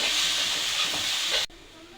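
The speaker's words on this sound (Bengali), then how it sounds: "দেখুন, এখনো হয়নি, এখনো ভাজতে হবে।" Grated coconut frying in a pan for coconut nadu, a steady loud hiss and sizzle that cuts off abruptly near the end, leaving a faint background.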